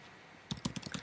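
Keystrokes on a computer keyboard while keywords are entered into a web page form: about six quick, close, fairly quiet taps in an uneven rhythm following a second of near silence.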